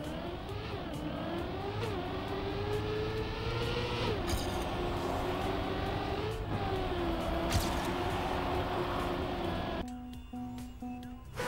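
A race car engine in Trackmania 2020 drones steadily, its pitch rising and dipping with throttle changes, loud and continuous before dropping off abruptly near the end.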